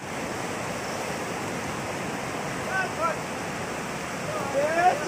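Floodwater from the Sharda canal rushing steadily, a broad, loud roar of churning water that swells slightly toward the end, with no voices over it.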